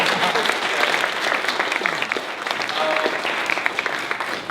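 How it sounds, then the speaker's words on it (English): Enthusiastic applause from a crowd, dense clapping that stays steady and loud throughout. "You really have to give yourselves a big round of applause"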